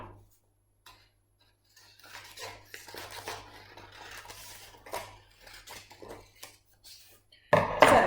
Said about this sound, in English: And then we're going to cut using our scissors down this line.